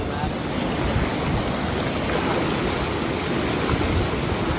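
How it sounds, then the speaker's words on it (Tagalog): A constant, heavy roar of rushing knee-deep flood water fills the scene, loud and steady without a break. "Lumakas yung baha."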